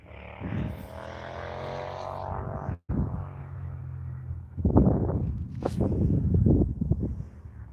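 A propeller airplane drones at Vancouver International Airport, a steady engine hum with harmonic whine that rises into louder, rougher roaring as it passes fairly close, with no talk.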